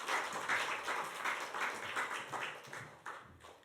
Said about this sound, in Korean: 다 같이 박수로 목사님 환영하겠습니다